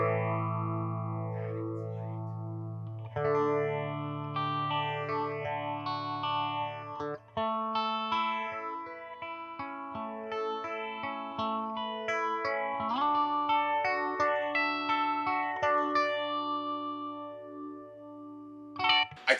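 An electric guitar played through a Warm Audio Mutation Phasor II phaser pedal, with chords and riffs sweeping in a swirling, whooshing modulation, bright and upfront with several pauses and note changes, no talking.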